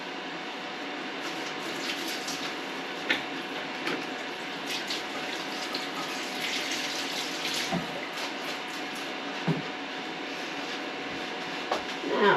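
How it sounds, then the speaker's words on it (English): A tap runs steadily for someone rinsing their hands at a kitchen sink, giving a continuous broadband wash of water with a few small splashes and clunks, moderately close and with no talking. "Let me rinse my hands."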